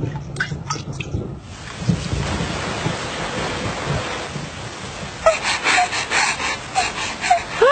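Cartoon sound effect of a thunderstorm with rain from a Doraemon episode in Malay, a loud rumble of thunder over steady heavy rainfall, with brief sharp squeaky effects toward the end.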